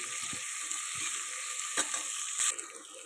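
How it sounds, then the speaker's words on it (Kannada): Onions sizzle steadily in hot oil with whole spices such as kasuri methi and cardamom, a continuous bright hiss broken by a few soft stirring knocks, close and alone without any voices. "ನಾನು ಈಗ ಈರುಳ್ಳಿನೂ ಕೂಡ ಹಾಕ್ಕೊಂಡು ಫ್ರೈ ಮಾಡ್ಕೊತಾ ಇದ್ದೀನಿ"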